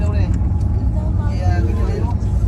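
Inside a moving sleeper bus travelling through Vietnam, a heavy low engine and road rumble drones constantly, with faint rattles over it and a voice speaking nearby.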